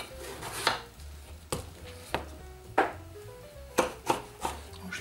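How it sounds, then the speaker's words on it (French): Aubergines with the skin on being chopped with a knife, about seven crisp, separate thunks on a cutting board, spaced unevenly and close up. "Je les coupe une fois en deux,"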